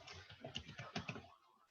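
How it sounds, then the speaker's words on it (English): Quick, light clicks of someone typing on a computer keyboard, a short burst of irregular keystrokes heard close and quiet in a still room, stopping abruptly. "let me just type it so that will be nice"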